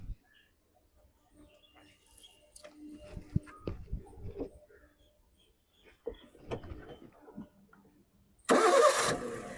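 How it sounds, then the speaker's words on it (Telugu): A 2014 Maruti Suzuki Ritz VXI petrol car with a recently replaced battery starts on a single crank, and a loud burst of cranking and catching comes near the end after a stretch of quiet clicks and faint handling noises. "సింగిల్ సెల్ఫ్లో బండి స్టార్ట్ అవుతుంది."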